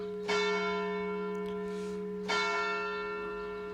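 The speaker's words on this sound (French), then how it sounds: "On attend le son des cloches." A church bell strikes twice, about two seconds apart, each clear tone ringing out and slowly decaying.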